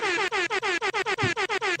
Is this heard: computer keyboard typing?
no